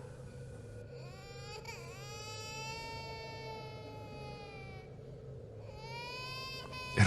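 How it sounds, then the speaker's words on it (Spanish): Soft, distant, baby-like crying drifting in through a bedroom window at night, heard as long, wavering wails that rise and fall steadily over a low background hum. "Era un llanto bajo y suave, lejano, como el llanto de un bebé."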